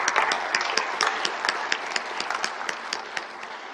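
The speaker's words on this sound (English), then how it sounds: "I'd like to give a big round of applause for our panelists once again." An audience at a conference panel claps steadily for a few seconds, a crisp patter of many hands, with no talking.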